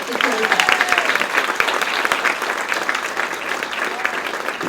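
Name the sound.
applause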